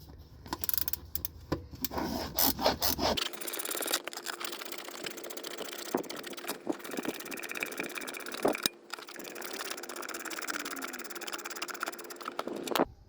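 A wrench loosening a seat bolt in a semi truck cab, close metallic clicks and scraping in short bursts, with low engine-like hum and rustling after the first few seconds.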